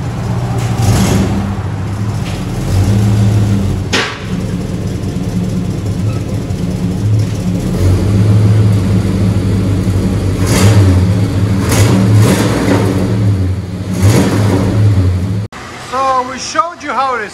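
A 1971 Chevelle SS V8 with true dual Flowmaster Super 10 exhaust and an exhaust leak, revving repeatedly in loud bursts over a steady rumbling idle, with brief talk and a final short burst.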